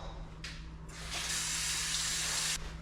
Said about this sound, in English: rinse them all in cold water